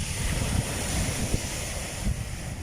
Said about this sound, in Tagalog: ang aming pinanood ng mga malalakas na alon ng tubig dahil high tide